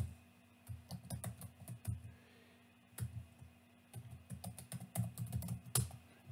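A computer keyboard is typed on in quick irregular bursts of key clicks, close but faint, with brief pauses between runs of keystrokes.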